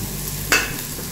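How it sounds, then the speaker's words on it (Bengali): A piece of pumpkin dropped into hot oil with dried chilli for a Bengali chutney, a low steady sizzle broken by one brief louder splash as it lands, close and without talk. "ভাজবো এটা ভালো করে।"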